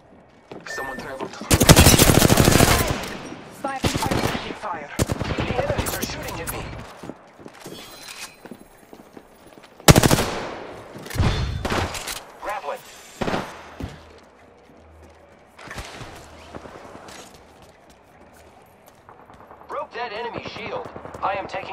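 Video game gunfire from Apex Legends crackles in loud rapid bursts of automatic fire and single shots, mixed with mechanical clicks and clatter, with someone talking over the action at times.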